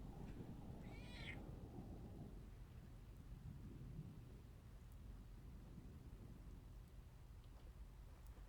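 A cat gives a single clear meow early on, fairly near, over a steady bed of rain and distant thunder rumbling throughout.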